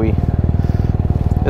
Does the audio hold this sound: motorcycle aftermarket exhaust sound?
yes